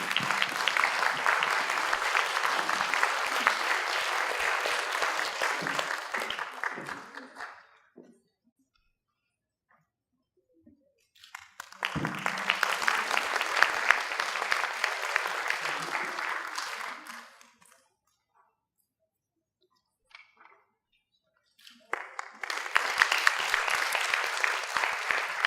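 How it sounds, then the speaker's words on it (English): Audience at a keynote on children's needs applauding in three long sustained waves of clapping, separated by near-silent gaps, fairly distant and even. "May we give them another round of applause?"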